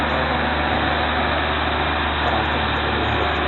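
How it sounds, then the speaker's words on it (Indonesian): A self-propelled boom sprayer, a tall high-clearance crop-care machine, runs with a steady low diesel-like engine drone, constant and near, with no talk over it. "ini adalah self-propelled boom sprayer"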